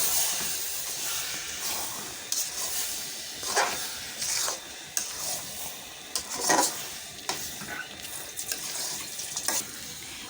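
Olive pickle with dry chilli and five-spice powder stirred in hot oil, a steady sizzle and hiss with scraping stirs recurring every second or so, close and fairly loud, no talking.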